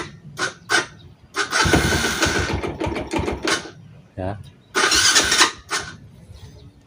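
A Yamaha Jupiter Z motorcycle with a rough knocking fault on its right side is started up close, with bursts of cranking and revving between short pauses, while someone speaks briefly.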